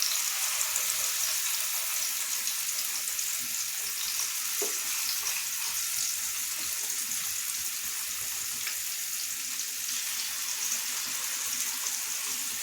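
Mackerel fries in coconut oil in a non-stick pan, giving an even, continuous sizzling hiss with faint scattered crackles and no talking.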